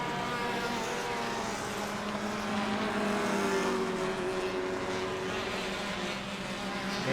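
Race cars at the Toyo Tires Explorar Racing Car Thailand 2025 event, a continuous loud engine roar with a rising and falling whine as cars pass, mixed with crowd and track ambience.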